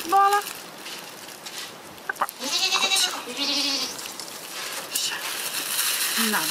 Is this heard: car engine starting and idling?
no